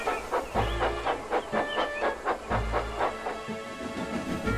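A small steam engine puffs away steadily, its rhythmic chuffs and hiss close and loud, with a clickety-clack of rolling coaches underneath and no talking.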